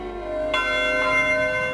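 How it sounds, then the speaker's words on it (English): Church bells ring with sustained, overlapping metallic tones, and a fresh strike lands partway through before the sound hangs on, loud and continuous. "All churches across the country ring their bells, asking people to pray and rise up"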